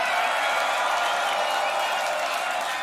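A large crowd at the Grand Beatbox Battle 2019 applauds and cheers for beatboxer ZEKKA, a dense, steady roar of clapping and voices filling the hall throughout.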